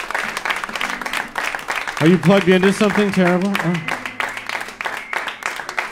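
Audience at a New York variety show clapping steadily on and off while a performer changes over on a small stage, with a host speaking and a voice over the applause.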